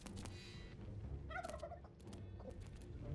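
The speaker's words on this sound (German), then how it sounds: "Und ich brauche mehr Hühner." Chickens in the video game Dungeons III give a short series of gobbling, clucking calls in the middle, set over a steady bed of game music and ambience.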